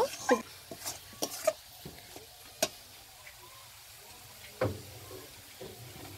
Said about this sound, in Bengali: সেই নারকেল কুড়াটা দিয়ে দিচ্ছি। এবারে মিশিয়ে নেব।